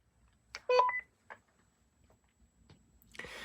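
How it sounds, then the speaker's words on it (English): A couple of short electronic roger beeps and chirps from a Cobra microTALK CXT145 two-way radio, brief tones followed by quiet, then a burst of static hiss at the end. "you can hear the Roger beep"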